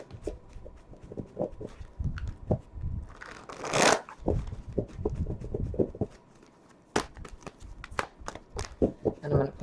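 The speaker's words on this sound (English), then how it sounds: "let's go ahead and give these Angel Tarot cards a few shuffles." Repeated papery riffling and soft slaps of tarot cards being shuffled, close up, in several bursts with brief pauses between them.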